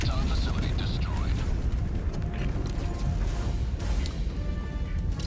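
A portable hellbomb detonates and levels an Automaton facility in Helldivers 2, a heavy booming blast followed by rumbling, crashing debris and scattered mechanical clanks, with a voice speaking over the din.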